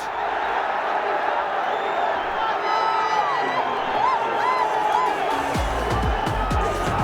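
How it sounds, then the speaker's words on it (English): A stadium crowd at a BPL 2025 T20 cricket match between Fortune Barishal and Durbar Rajshahi roars and whoops after a six, a dense, loud, continuous wash of voices with whistles and horns cutting through. "That gets the crowd going."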